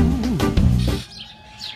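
Birds at a bird park in Foz do Iguaçu, Brazil: a burst of loud, raspy, wavering calls for about a second, then softer high chirps and tweets nearby.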